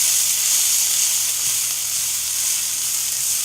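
Vegetables fry in a pan with a loud, steady, bright sizzle and crackle that stays constant throughout, with faint stirring underneath.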